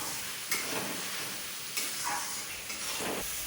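Whole spices such as cloves and cardamom dropped into hot oil for a crab dish, sizzling steadily with a few sharper bursts as they are stirred, close and moderately loud, with no talk.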